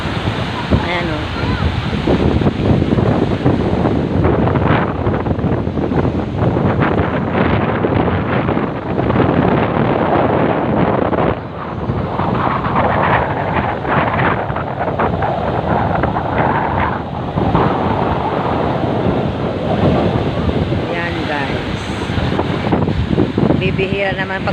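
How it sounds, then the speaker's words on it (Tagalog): Loud, continuous roar of strong surf crashing on a beach at a marine base, with heavy wind buffeting the microphone throughout. "malakas lang po ang alon sa mga panahon na to."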